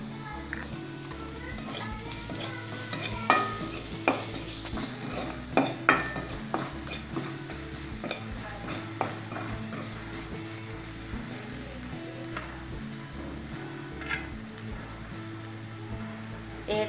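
Vegetables stir-frying in a pan for noodles, with a soft sizzle under repeated utensil taps and scrapes against the pan at close range.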